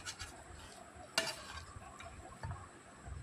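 Taro leaves stirred in a hot pan, with a soft, steady sizzle, scraping stir strokes and one sharper knock of the utensil against the pan, all fairly quiet and close.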